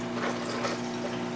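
A slushy-style cocktail is poured from a bottle at a craft cocktail bar, a steady continuous liquid rush over a constant mechanical hum, with no talk.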